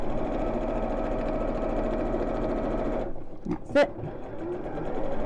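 Sewing machine stitching fabric for a drawstring bag, a steady rapid mechanical chatter for about three seconds before stopping, followed by a short clunk and a brief spoken remark.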